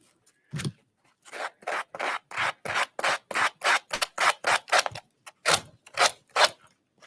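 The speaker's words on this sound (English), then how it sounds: "Pop that down so you can see where I'm sanding." Rhythmic rasping strokes of sandpaper on a wooden tiered tray repeat about twice a second, close and crisp, with no voices.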